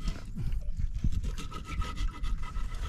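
Rapid rasping strokes of a saw cutting through wood, close and busy, with a quick back-and-forth rhythm.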